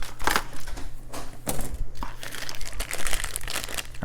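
A plastic bag of Warhammer 40K bases crinkling close up during unboxing, irregular bursts of crackling and rustling handling sounds with brief pauses between them and no voices.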